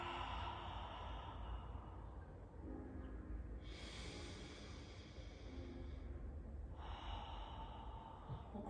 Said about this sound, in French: Soufflez par la bouche, faites de l'air chaud dans votre gorge.